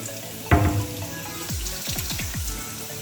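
Cold water runs from a newly installed kitchen sink faucet, a steady close hiss and splash with a sudden burst as the flow opens, then gurgling draining sounds into the siphon.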